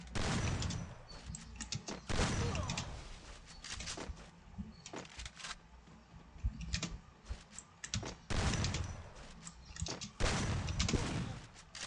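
Rapid bursts of video game gunfire crackle in uneven clusters throughout, sharp and loud, interleaved with quick clicking that resembles keyboard or mouse input, with no talking.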